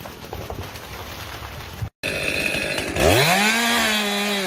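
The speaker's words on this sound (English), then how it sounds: "The razor-sharp chainsaw slices through the wood like a knife through butter." A razor-sharp chainsaw runs loud and close, first with a rough, buzzing idle. After a brief cut-out it revs up sharply and holds a high, strained whine as it bites through a tree trunk.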